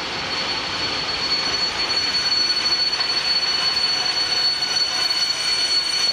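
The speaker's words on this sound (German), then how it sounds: "die Lok ist die V100 SP025" A V100 diesel locomotive on a railway works site holds a loud, steady hiss and roar with a high metallic whine throughout, heard close and alone.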